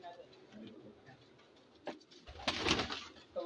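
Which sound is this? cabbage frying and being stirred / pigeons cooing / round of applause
pigeons cooing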